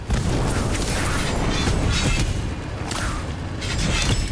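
The Incendio fire spell roars out in the video game Harry Potter: Magic Awakened, a loud sustained whooshing blast with booming rumbles that surges and swells throughout.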